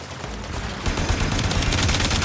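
Rapid gunfire from the video game Warframe, a quiet lead-in giving way to dense, rhythmic bursts of shots that continue loud to the end.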